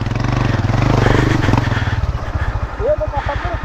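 A motorcycle churns down through a river in deep water, its engine chugging in a steady low rhythm up close, with splashing clatter and a person talking over it.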